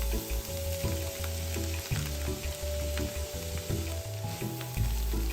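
Finely chopped garlic fries in oil in a pan already fragrant with dried shrimp, giving a soft, steady sizzle with light stirring, faint and close, and no talking.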